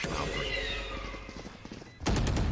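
Gunfire in Valorant during a pro VCT North America match between 100 Thieves and Rise, a rapid burst of loud shots and thuds with a sharp final blast, mixed with game noise and an excited commentator's voice.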